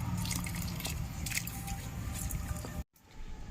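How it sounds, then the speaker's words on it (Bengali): Washed mung dal drops into a pot of hot water with a wet, squishy splash and dripping liquid, close and fairly loud, ending in a brief cut of silence followed by softer bubbling. "ধুয়ে রাখা ডাল দিয়ে দিচ্ছি।"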